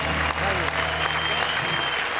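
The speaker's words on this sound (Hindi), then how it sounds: "निशा मुनि इस स्टूडियो में बजती हुई तालियां और देश भर के हर घर में बजती हुई तालियां" Studio audience applause at a stand-up comedy show, a loud continuous roar of clapping from a large crowd that holds steady throughout, with a voice faintly mixed in underneath.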